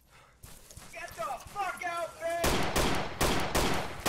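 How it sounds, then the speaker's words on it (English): Rapid gunfire bursts in an online multiplayer video game, loud repeated broadband shots arriving after a stretch of speech with pitched voice tones, continuing as clustered volleys to the end. "Someone's shooting."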